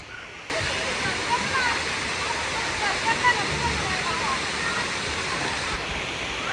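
At a water park slide, water rushes and splashes in a dense, continuous roar, loud and close, with voices faintly mixed into the wash.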